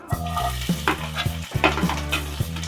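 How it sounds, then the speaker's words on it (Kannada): Chopped onions fry in hot cooking oil for vegetable fried rice, with a steady close sizzle broken by repeated scraping stirs of a spoon against the pan, no voices present. "ಈರುಳ್ಳಿ ಚೆನ್ನಾಗಿ ಫ್ರೈ ಆಗಬೇಕು ಈರುಳ್ಳಿ ಫ್ರೈ ಆಗ್ತಾ ಇದೆ"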